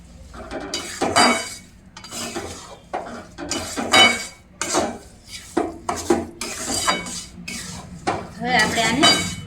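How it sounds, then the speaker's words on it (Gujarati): Dry fruits stirred into an adadiya pak mixture over a low flame, with repeated scraping and clinking of a metal spoon against the pot in uneven strokes, loud and close. "હવે આપણે આ જે સૂકા મેવા લીધા હતા એ નાખી દઈશું એમાં આપણે બધું મિક્સ કરી લઈએ રીતના ધીમા ધીમા તાપે આને આપણે મિક્સ કરી લેવાનું છે"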